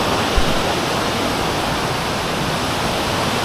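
Salvosa Falls in Pantukan, Davao de Oro pours in a constant, dense rush of falling water, loud and close with no break.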